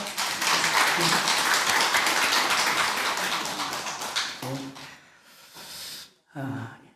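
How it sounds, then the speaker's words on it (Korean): A church congregation in Bucheon claps during a Sunday Thanksgiving service, producing dense, steady applause for about four seconds that fades out, followed by a few isolated sounds and a short burst of speech. "박수 한번 쳐줍시다"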